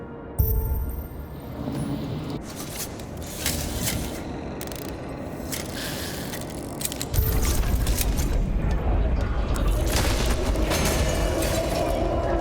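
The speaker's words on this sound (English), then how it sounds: "Maybe I can lift the chandelier." Heavy mechanical clanking and grinding as a chandelier is hoisted by a mechanism in the game Nobody Wants to Die, with a sudden loud boom near the start and a denser low rumble joining partway through, steady and close with no talk.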